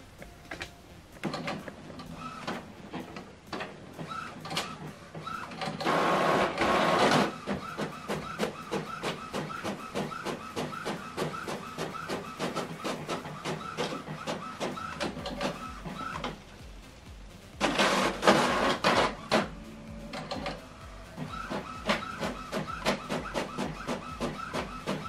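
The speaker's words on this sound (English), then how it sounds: "Now this document is going to print." Office printer running a double-sided print job, with steady rhythmic mechanical whirring and clicking, two louder paper-feed surges roughly ten seconds apart, and quieter pauses between; no talking.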